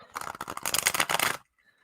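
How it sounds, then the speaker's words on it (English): A deck of tarot cards is shuffled up close, a rapid run of crisp flicking riffles for just over a second that stops abruptly, leaving quiet. "I just suck at shuffling."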